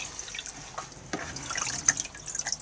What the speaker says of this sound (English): And what we're going to do now is just give it a thorough rinsing.